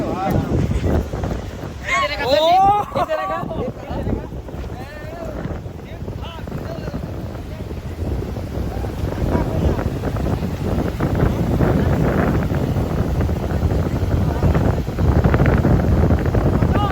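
Strong wind rushing past high up in the sky, a loud, continuous roaring buffet that swells and thickens toward the end, with a brief higher-pitched wavering sound early on.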